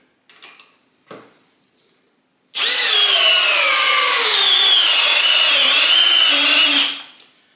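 Milwaukee compact cordless drill on a 2 amp hour battery at speed 2 drives a 5/16 by 8 inch GRK screw, one loud continuous whine that sags in pitch under load for about four seconds after a few short taps.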